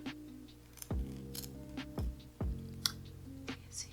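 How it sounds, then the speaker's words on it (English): Several sharp metallic snips of scissors cutting wig lace, spaced irregularly, close and fairly quiet with faint clicks between. "I'm moving the scissors just a little bit to give it like the jagged look"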